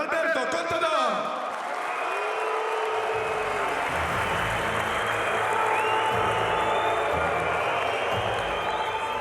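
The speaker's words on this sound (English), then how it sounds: "That was the crowd's verdict on Alberto Contador" Spectators at the 2011 Tour de France react as defending champion Alberto Contador is introduced, a steady broad crowd roar with applause and mixed shouting holding for several seconds over an announcer's voice early on.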